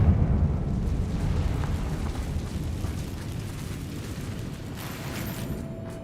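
In the video game Hogwarts Legacy, a Confringo fire spell goes off in a heavy, deep explosion that rolls on as a sustained rumble, loud at first and easing only slightly over several seconds.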